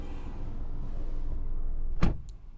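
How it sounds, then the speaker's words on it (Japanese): The door of a 2020 Peugeot 208 GT Line shuts from inside the cabin with a single heavy, solid thud. A quieter click follows, after a stretch of muffled interior ambience. "ドア閉めた音めっちゃ重厚感あります"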